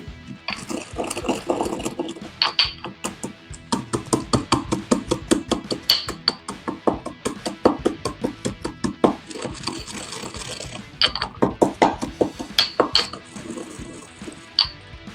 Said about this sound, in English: to grind it with this mortar and pestle, you're just going to pound them down.